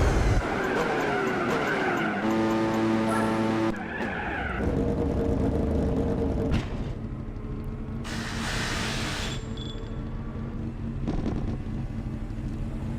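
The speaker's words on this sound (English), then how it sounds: "there goes the other CLK now. He's blasted through" A Mercedes CLK race car in Gran Turismo 4 blasts past with a whining engine note that climbs and shifts, tires scrubbing, over a steady drone of other cars on track.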